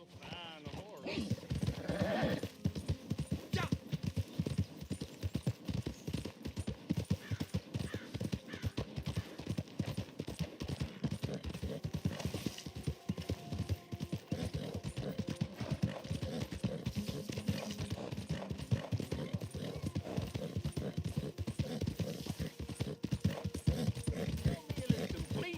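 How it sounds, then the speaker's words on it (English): Horse hooves clip-clop steadily in Red Dead Online, a continuous close run of rapid hoofbeats lasting throughout with occasional whinny-like calls mixed in. "Real fine horse."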